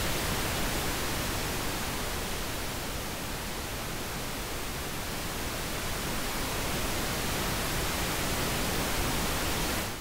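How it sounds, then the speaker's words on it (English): A steady stereo pink noise test signal, a broadband, even hiss that stays at constant loudness for about ten seconds with no talk over it. "this sounds like pink noise"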